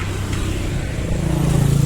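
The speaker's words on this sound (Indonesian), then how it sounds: "Kemudian saya akan coba hidupkan mesin mobil ini teman-teman." A Daihatsu Gran Max engine with its V-belt removed runs close by, a loud, steady low rumble that firms up slightly toward the end.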